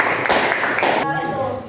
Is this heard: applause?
yes